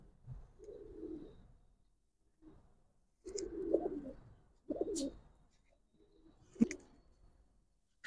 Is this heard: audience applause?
no